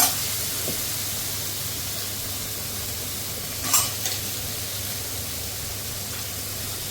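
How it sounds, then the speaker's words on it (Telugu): Red and yellow capsicum sizzling in a frying pan as they are stirred, a steady hiss throughout with a brief scrape of the spoon partway through, no talking. "మళ్ళీ ఇది మొత్తం 2 నిమిషాలు మగ్గే వరకు కలుపుకుందాం."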